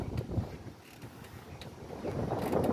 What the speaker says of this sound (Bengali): বাতাসে শো শো শো শো করে সৌদির অবস্থা